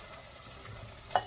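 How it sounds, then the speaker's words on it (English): Canned Rotel tomatoes going into a hot pot for beef stew give a steady, soft sizzle with a brief, sharper splash or clink near the end. "Now I'm gonna go ahead and add my Rotel tomatoes"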